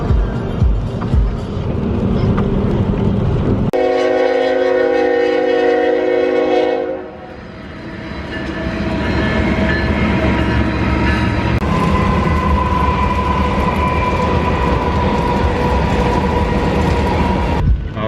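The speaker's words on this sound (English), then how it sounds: "Have you ever seen a double-decker train?" A double-decker train rolls past in open grassland with a loud, sustained rumble of wagons, a long horn blast partway through, then continued clatter and steady rolling noise close by.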